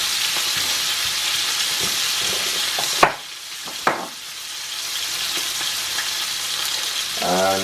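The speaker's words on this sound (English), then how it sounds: "the frying." Steak sizzles loudly and continuously in a hot pan, a dense crackling hiss broken by a couple of sharp clanks of a utensil.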